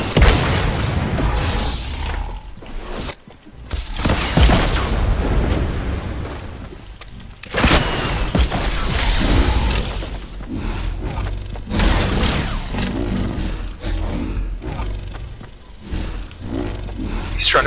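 Rocket launcher blasts in the Fortnite video game, a sustained series of loud booming explosions with roaring rumble, repeated across the stretch with brief gaps between bursts.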